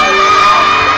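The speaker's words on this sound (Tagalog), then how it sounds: "Isang tili pa nga?" A crowd at a Filipino praise and worship concert letting out a loud sustained collective scream and cheer, a dense wall of high voices filling the moment.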